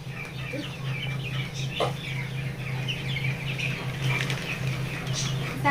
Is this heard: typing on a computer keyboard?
no